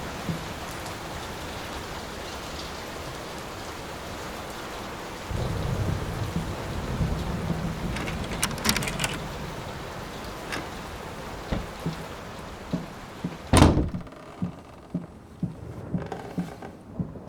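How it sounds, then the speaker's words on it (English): Heavy rain pours steadily in the Layers of Fear video game, swelling louder midway, then a sharp close thunderclap cracks and rumbles before dripping, scattered raindrops follow. "Will this storm ever run out of rain?"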